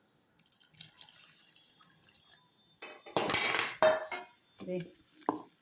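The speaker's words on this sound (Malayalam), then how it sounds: "ഞാൻ 1 കപ്പ് വെള്ളം ഒഴിച്ചിട്ടുണ്ട്." One cup of water splashes and pours into a bowl of fruit salad in a few short bursts, with light clinks of dishes nearby and a quiet hiss before.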